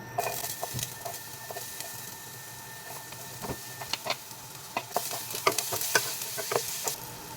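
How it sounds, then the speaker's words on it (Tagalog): White onion sizzles and fries in oil in a pan, a steady close crackle broken by scraping stirs and clinks. "Maglagay lang tayo ng mantika. Tapos lagay natin tong white onion."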